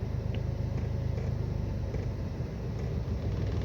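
A manual car pulls away as the clutch is slowly let out, a steady low engine rumble heard from inside the cabin, close and even throughout.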